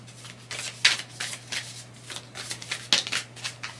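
Tarot cards being shuffled and drawn from a deck: soft, repeated riffling bursts in an irregular rhythm, close and fairly quiet, with a faint steady hum beneath.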